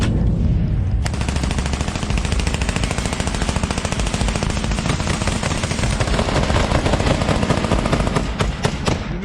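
Sustained, dense gunfire in combat near Pokrovsk, with a rapid, relentless crackle of shots; loud and close, filling the full stretch without pause and with no talk over it.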